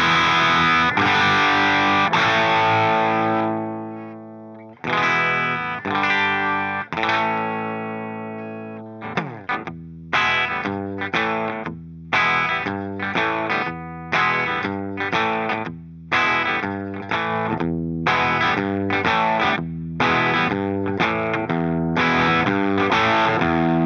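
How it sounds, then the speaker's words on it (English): Heavily distorted electric guitar through an AmpliTube 5 simulation of a Marshall JCM800 with 4x12 cabinets: sustained chords ring out, then a tight, rhythmic chugging riff with punchy palm-muted stops, loud and alone. "These are both based on a Marshall JCM800 amplifier paired with 4x12 cabinets."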